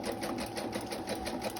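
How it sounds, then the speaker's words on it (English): A sewing machine stitches an image onto a paper bag, its needle chattering in a fast, steady rhythm, close and alone throughout. "I'm sewing on the bag as well as the image"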